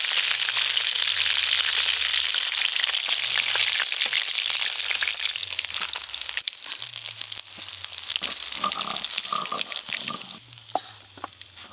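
River tul fish frying together in a pan in a village kitchen, a steady loud crackling sizzle running throughout with occasional clatter as pieces are moved.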